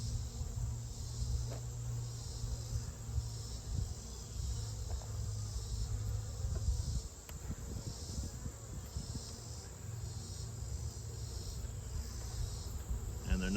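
Honey bees drone steadily around an open beehive in August, a continuous close buzzing hum with no pauses.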